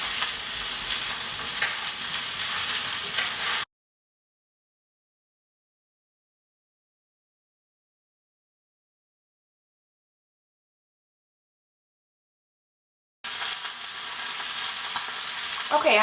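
Seasoned beef is stirred in a frying pan, a close, busy sizzle with stirring noises that cuts out into total silence partway through, then returns near the end.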